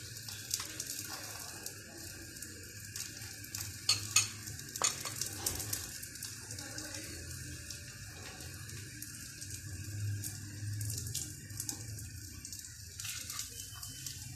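Radish-stuffed paratha fries in ghee on a hot pan, a steady broadband sizzle running throughout with a few louder crackles and scraping touches near the middle, fairly close and no talk.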